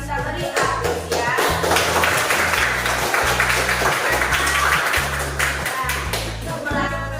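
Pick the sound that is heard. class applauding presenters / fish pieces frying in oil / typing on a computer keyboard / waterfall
class applauding presenters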